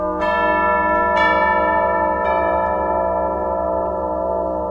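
Tubular bells from an Orchestral Tools sample library: three clear, close bell strikes about a second apart, each ringing with bright metallic overtones and decaying into a long, sustained shimmer with no voices.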